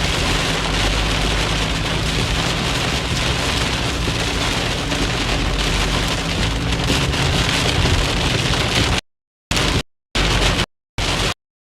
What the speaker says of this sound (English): We got hail. I hear hail.